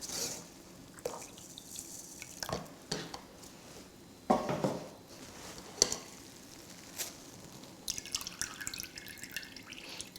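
Quinoa is rinsed in a bowl of water and stirred by hand: soft, close sloshing and dripping with small clinks against the bowl, steady and quiet, with no talking.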